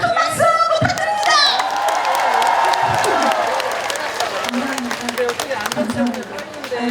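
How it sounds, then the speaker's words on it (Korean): A festival crowd at the Buyeo Lotus Festival closing ceremony claps and cheers steadily throughout, close and loud, with a voice calling out over the applause at the start. "다시 한번 큰 박수 부탁드립니다"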